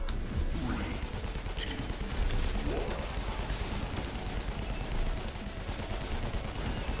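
Rapid gunfire in the video game Airmech Strike as units shoot down creeps: dense, continuous bursts of shots and battle noise with no pause for the whole stretch.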